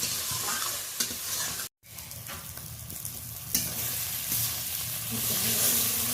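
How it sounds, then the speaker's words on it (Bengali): Tomato, onion, green chili and ginger paste sizzles steadily in hot oil in a pan, with scraping stirs of a spatula over a continuous frying hiss; a short gap interrupts the sound near the middle. "টমেটো পেঁয়াজ কাঁচা লঙ্কা আদা বাটা ফোড়নের সাথে সব ভালো করে কষিয়ে নিই"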